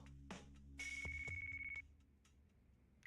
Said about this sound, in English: Haruka's getting a phone call